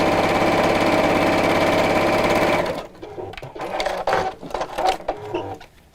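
A sewing machine stitches a curved decorative line on a zipped pouch, running fast and steady with a dense mechanical whirr for about three seconds, then stopping into quieter handling clicks and fabric rustles.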